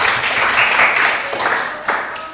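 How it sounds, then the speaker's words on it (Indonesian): Short burst of classroom applause as students clap for a presenting group, loud at first and thinning out with scattered claps and a few faint voices. "Kita berikan tepuk tangan dulu ya"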